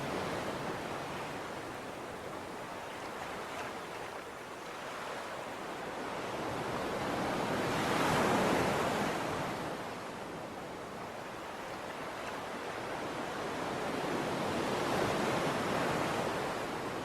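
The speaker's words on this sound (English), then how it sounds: "Breathing in the rhythm of the waves" Ocean waves roll in a steady, full wash of surf that swells and recedes slowly, with no voices over the continuous roar.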